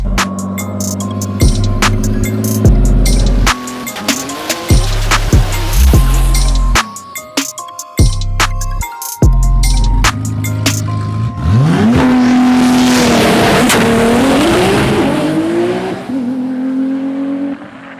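A 2000+ hp Nissan GTR drag car launches down the strip with its tyres spinning, starting with loud staccato revving bursts and then a long, roaring, wavering acceleration that fades as it pulls away.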